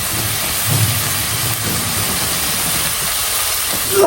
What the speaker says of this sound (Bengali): চিংড়িটা ভালোভাবে করতে হবে মশলার সাথে কষায় নিতে হবে চিংড়িটা